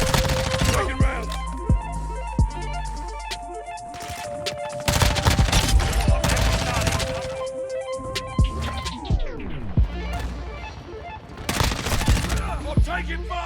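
Rapid MP5 submachine-gun bursts and scattered shots ring out in a Call of Duty Modern Warfare multiplayer match, crackling under game announcer voices and other sound effects.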